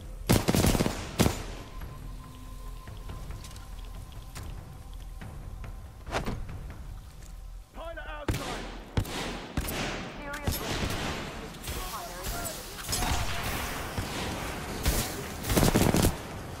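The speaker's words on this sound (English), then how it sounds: "I don't know what to think about that L-Star weapon." In the game Titanfall 2, L-Star gunfire comes in sharp bursts, opening the scene and returning toward the end, mixed with other combat noise and voices shouting between the volleys.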